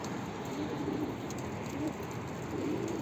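Pigeons coo softly in a low repeated murmur over a steady hiss of outdoor background noise, with the calls faint, rising and falling in a few brief phrases.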